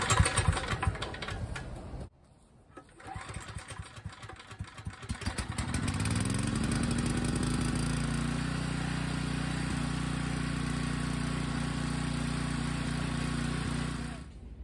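A small portable generator engine clatters through a few cranking attempts, then catches and settles into a steady, loud running drone that holds until the end.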